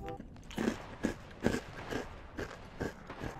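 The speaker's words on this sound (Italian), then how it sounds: "Adesso mi sentirete masticare nutrizionalmente, perché non mi hanno dato di mangiare" Crunchy bites and chewing on a ketchup-flavoured croccantella snack, close to the mic, with about eight evenly spaced crunches recurring roughly every half second over a faint background hum.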